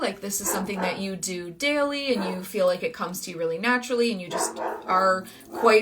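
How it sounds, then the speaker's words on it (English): A pet dog barks and yips in the background, short sharp calls woven under a continuous stretch of close, steady talking. "sorry if you can hear my dog barking"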